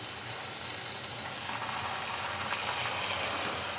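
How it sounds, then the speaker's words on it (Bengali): Spice paste for Bengali mutton curry, loosened with a little water, sizzles and sputters steadily in a pan, a close, even frying hiss with faint crackles. "ভালো করে মশলাটাকে এখন কষিয়ে নেব।"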